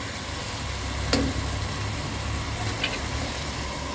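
Potatoes and masala fry in hot oil, giving a loud, steady sizzle close by with a brief clink of a utensil partway through.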